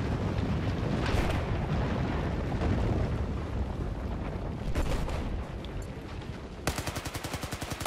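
Massive destruction of the dam in Battlefield 4, a long, roaring rumble of collapsing explosion mixed with distant gunfire, ending in a rapid burst of automatic shots.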